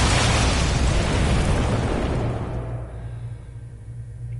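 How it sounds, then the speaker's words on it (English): A loud explosion sound effect from the video game Murder Trivia bursts in with a dense roaring blast that rumbles for about two seconds, then decays into a low lingering hum. "Explosion"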